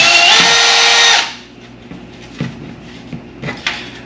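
A power drill runs loudly for about a second, drilling carbon fiber door sills, then stops, followed by a few scattered knocks and clunks of handling nearby.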